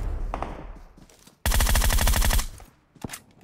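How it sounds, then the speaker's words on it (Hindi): A dense burst of rapid automatic gunfire from DP, M4 and UMP guns in a battle royale video game, loud and close for about a second, then a couple of scattered single shots. "अब हर जगह से भाई DP M4 सब कुछ चले जा रही थी, UMP वगैरह"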